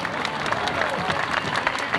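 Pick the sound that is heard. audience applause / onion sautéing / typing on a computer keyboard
audience applause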